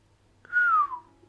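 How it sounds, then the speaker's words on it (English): A single short human whistle, clear and close, slides downward in pitch and then stops, alone against quiet. "replied with a whistle"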